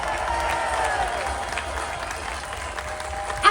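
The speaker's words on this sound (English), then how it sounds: "Give them a cheer." At the Durham Miners Gala, a large outdoor crowd responds with sustained applause and cheering that holds steady across the moment, with a brief louder swell at the very end.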